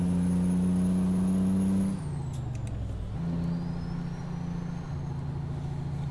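A Peterbilt 389 truck with a 535 engine in American Truck Simulator, its steady loud drone dropping in pitch through a gear change, then climbing and revving again, with a high whine above.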